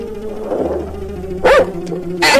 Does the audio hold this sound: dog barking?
yes